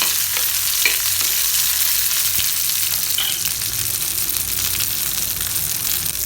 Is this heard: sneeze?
no